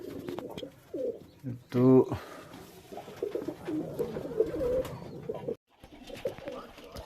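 Native domestic pigeons coo in a loft with a nesting pair and chicks, soft repeated low coos close by, with a brief louder burst near two seconds and someone talking over much of it.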